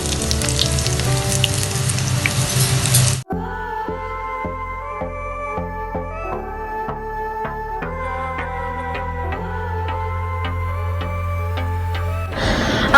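Breaded onion rings deep-fry in hot oil with a dense, loud bubbling sizzle for about three seconds before it cuts off abruptly and music plays for the rest.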